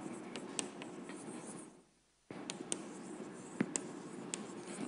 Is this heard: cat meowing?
no